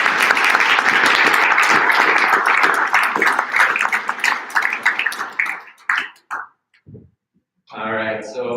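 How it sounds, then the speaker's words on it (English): Audience applause for award winners at a Hawaii ecotourism event, loud sustained clapping that thins into scattered claps and fades out, followed by a voice speaking. "another round of applause for all of our winners today, all of our awardees"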